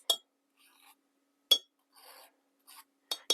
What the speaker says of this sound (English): just use a spoon and work it all through your strainer. Make sure you scrape underneath.